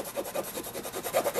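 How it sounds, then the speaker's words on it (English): An old spoon rubbed steadily across paper to burnish a CitraSolve image transfer, giving soft, quiet scraping strokes in a repeated back-and-forth rhythm, close up with no talk. "I take an old spoon and I just start to burnish"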